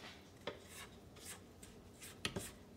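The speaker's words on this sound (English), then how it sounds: "You want to scrape down the sides," A spatula scrapes down the sides of a mixing bowl of batter for pumpkin spice loaves, making soft, faint rubbing strokes with a few sharper scrapes near the end, heard alone in a quiet kitchen.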